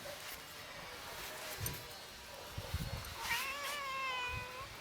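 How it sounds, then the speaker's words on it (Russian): A cat meows several times in a quiet garage beside an Opel Vectra A lifted for a wheel check, drawn-out wavering calls fairly close, with soft bumps and rustling before them. "Только слышно, как мяукает кот."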